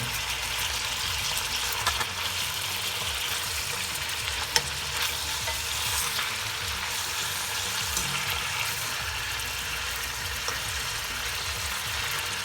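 Beef pieces for nihari sizzling steadily in a pan while being turned and stirred, a continuous close frying hiss with faint scraping and one short knock.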